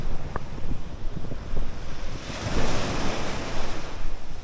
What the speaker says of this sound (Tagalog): Ngayong hapon biglang nag-amihan oh, yung hangin oh. Bigla tuloy umalon